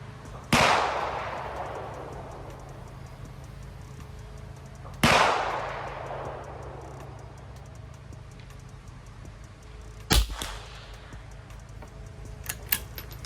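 Rifle shots fired at a target through a 2-7 power scope: three sharp reports with decaying tails, spaced about five seconds apart and moderately loud, each standing alone, followed by faint clicks at the end.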